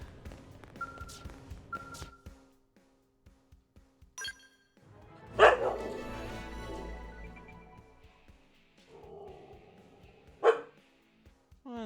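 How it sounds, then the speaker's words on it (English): A pet dog lets out scattered barks and yips indoors, some short and some louder, with long quiet gaps between them and a faint tonal beeping early on. "One of my dogs just wants to be very noisy right now."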